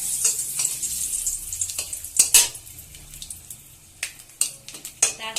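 Whole cinnamon and cardamom sizzle steadily in hot oil in a pan, a continuous crackling fry with occasional sharper pops and faint utensil stirring, close and alone without talk.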